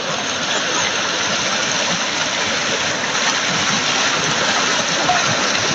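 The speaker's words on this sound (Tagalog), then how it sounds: "Dito pa tayo sa ilog." The Jubgan River in Surigao del Norte, Philippines, rushing over rocks, a loud, steady, close roar of flowing water with no talk.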